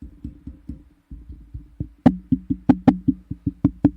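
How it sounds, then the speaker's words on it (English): Steady series of hollow knocks close to a podcast microphone, about three or four per second, growing sharper and louder halfway through. "there's a lot of knocking coming in"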